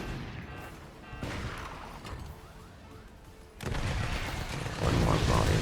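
Gunfire and rocket volleys in a video game battle, sounding as rough bursts and booming blasts that grow louder and denser toward the end.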